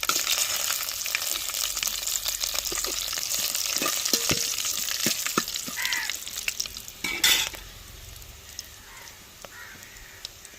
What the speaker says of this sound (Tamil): எண்ணெய் சுடாரிச்சுங்க கடுகு உளுந்து போட்டுக்கிறோம் கருவேப்பிலை போட்டுக்கணும்